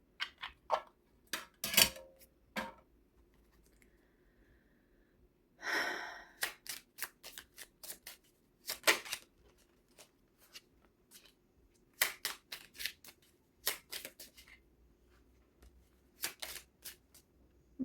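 A Waite tarot deck is shuffled in a quiet room, with bursts of crisp card riffles and flicks spaced irregularly between soft pauses, close and fairly faint.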